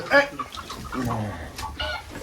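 Chickens cluck close by, a sharp squawk followed by softer, uneven clucks and murmurs.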